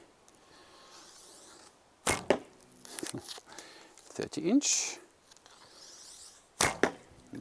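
Vintage Ben Pearson Superjet bow shooting arrows: two sharp string thumps a few seconds apart, with softer knocks between, close by, while someone talks throughout.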